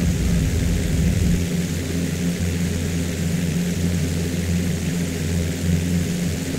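A propeller aircraft in the X-Plane 10 flight simulator on Oahu roars steadily on the takeoff run, a loud continuous engine drone with a low throbbing hum and no talking.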